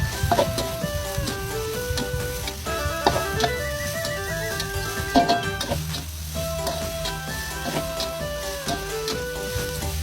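Fried rice stir-fried in a pan over continuous sizzling, with rapid metallic scraping and clanking of the spatula against the pan and a low steady hum behind it.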